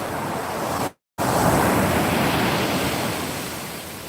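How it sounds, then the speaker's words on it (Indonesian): Large ocean waves break and wash continuously on Senggigi Beach, a loud steady roar of surf with wind buffeting the microphone, briefly cut to silence near the start. "Ombaknya lagi besar, guys."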